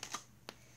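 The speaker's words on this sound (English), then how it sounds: "You can hear the sticky as it comes off the paper" A sticky rubber butterfly stamp peels off paper in two short, faint tacky clicks spaced about a third of a second apart, close and quiet.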